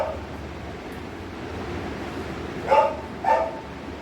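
A male dog at a dog creche in Kolkata, India gives two short barks or yips near the end, over a steady background hiss.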